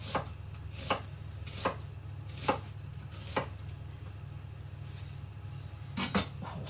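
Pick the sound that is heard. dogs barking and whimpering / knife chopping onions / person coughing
knife chopping onions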